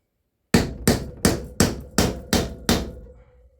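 Seven crisp, evenly timed hammer blows ring out close by as a tailshaft bushing is tapped into a Torqueflite 904 transmission, each strike decaying briefly before the next, with a faint lingering ring at the end.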